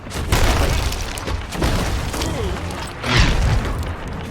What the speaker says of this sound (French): Canon.